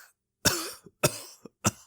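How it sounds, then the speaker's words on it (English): A man coughs hoarsely three times in quick succession, each harsh, phlegmy burst close and loud, separated by brief silences, with no speech. "He coughed again, preventing him from finishing."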